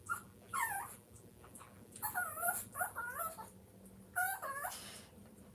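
A dog whimpers and cries in a series of high, wavering whines, several drawn-out bursts repeating across the clip, close and moderately loud.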